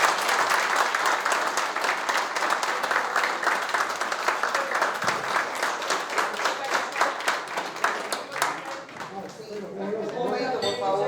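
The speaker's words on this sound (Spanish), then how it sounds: "Aplausos." Lecture audience applauding, dense sustained clapping that slowly thins toward the end as a speaker's voice comes in over it.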